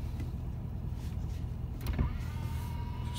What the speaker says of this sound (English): It's got the power mirrors as well.